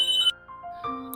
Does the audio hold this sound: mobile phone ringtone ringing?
yes